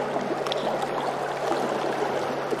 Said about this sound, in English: Okay, so water flowing around.